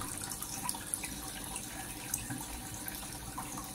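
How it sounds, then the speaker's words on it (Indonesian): Water is poured into a marine aquarium tank as a steady, fairly quiet splashing trickle with occasional drips, continuous throughout and with no talking. "Kita langsung tuangkan saja airnya saja ya guys"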